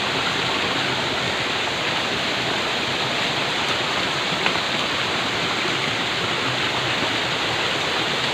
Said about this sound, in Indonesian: Inilah tim nyampe di lokasi air terjun 2 tingkat.